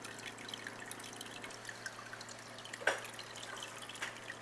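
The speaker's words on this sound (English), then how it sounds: "That's how I have my water condensed. The water going in and out of my condenser." Water dripping and trickling as it circulates in and out of a distillation condenser, a steady faint trickle with a single clearer drip standing out partway through, no voices.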